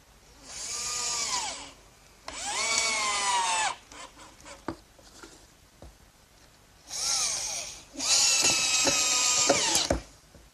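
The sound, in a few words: power drill driving screws into workbench top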